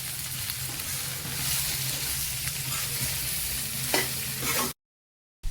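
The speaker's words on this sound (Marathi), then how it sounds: "सगळी मसाल्यामध्ये भेंडी फिरवून घेऊ" Okra stirred through spice masala in a pan, with a steady sizzling fry and scraping stir for several seconds before it cuts to silence; no talking.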